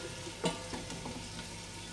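Onions frying in a pan give a faint, even sizzle with a couple of soft knocks, quiet and unaccompanied by speech.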